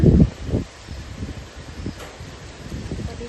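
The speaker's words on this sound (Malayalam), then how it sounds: "എന്തൊരു കാറ്റ്" Gusty wind buffets the microphone and rustles leaves, loudest at the start, then easing into a steady breezy rustle with faint voices.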